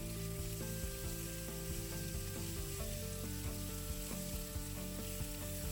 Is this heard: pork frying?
yes